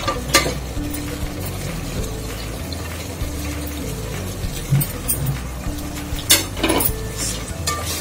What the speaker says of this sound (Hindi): अभी वो चने का दाल जो भिगा के रखी थी वो डालूंगी